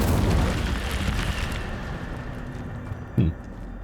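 An Incendio fire spell in Hogwarts Legacy erupts with a loud whooshing burst that fades into a crackling tail, and a short sharp pop follows near the end.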